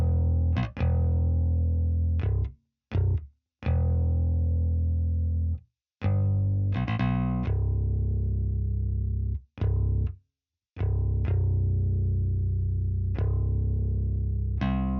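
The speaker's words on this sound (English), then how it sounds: "the finished bass line is sounding like this." A finished bass line for a bouncy hip-hop beat plays alone, with deep sustained bass notes in a choppy, syncopated pattern. Sharp stops and short gaps separate the phrases, and each note has a distorted, effect-heavy tone.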